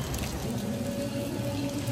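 Steady rain falls at a temple in the evening, a soft continuous hiss with faint patter, fairly quiet and even throughout with no voices.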